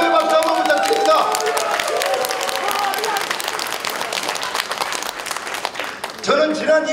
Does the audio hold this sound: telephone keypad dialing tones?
no